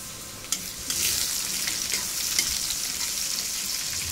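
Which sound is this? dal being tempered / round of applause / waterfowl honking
dal being tempered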